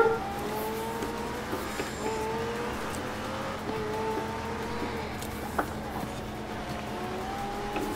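Engine drone and tyre noise from a Lego car racing in Forza Horizon 4, a steady continuous whine with rising and falling pitch sweeps and a brief sharp knock near the middle, no talk over it.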